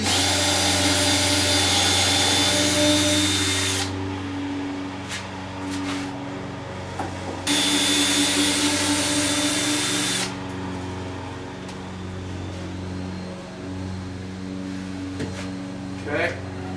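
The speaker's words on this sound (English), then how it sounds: "I'm going to unscrew these." A power drill or driver spins on the bolts holding the rear wing of a 1990 Mazda Miata, with two long whirring bursts close by, broken by pauses, ratchety clicks and a voice talking.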